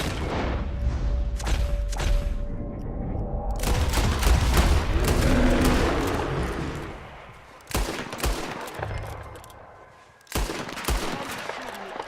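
Gunfire in the video game Red Dead Redemption 2 during a bear hunt, loud sustained volleys of rifle and pistol shots with booming impacts, dense and continuous, then a pause before more heavy shots.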